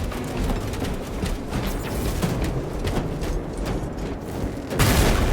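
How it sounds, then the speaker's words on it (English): Weapon reloading in the Space Marine 2 campaign, set in a dense game battle soundscape of rapid gunfire and booms, with mechanical clacks scattered through and a louder burst at the end. "Reloading weapon."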